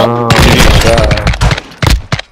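Gunfire in the video game Call of Duty: Modern Warfare II, a dense burst of loud, close shots followed by a few sharp separate blasts, with a sustained tone at the start.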